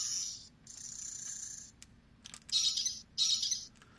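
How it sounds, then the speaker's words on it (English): Mattel Disney Dinosaur Veloci-kicker toy giving off shrill electronic bird-like chirps in several short bursts, with faint mechanical clicks from the toy between them, fairly quiet and close. "I really like some of the noises, very bird-like."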